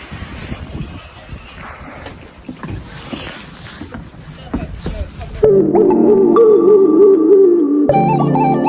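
A boat engine drones steadily on the water, at first under wind and choppy noise, then becoming a loud, close, humming motor with shifting tone.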